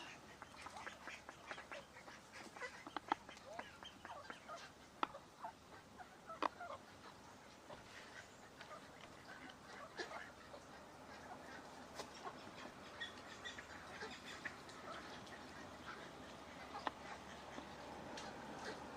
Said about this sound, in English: So this is the King's Pond duck feeding area.